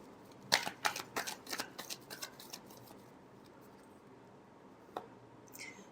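Tarot cards are shuffled in a quick, close run of papery riffles and taps. The shuffling fades to stillness, then one more soft flick follows. Nobody speaks.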